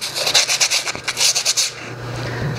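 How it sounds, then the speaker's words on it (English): Sandpaper rubbing the inside of a clay pottery yarn bowl, a close rhythmic series of gritty scrapes in quick strokes that fade into a steady low hum. "So you sand this off till it's tidy."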